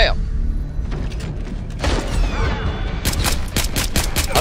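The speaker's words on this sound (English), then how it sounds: "I'm just gonna shoot all you motherfuckers from up here" Gunfire in the stealth game Splinter Cell Blacklist, with scattered shots early and a rapid run of sharp bursts toward the end, mixed with game noise and talk.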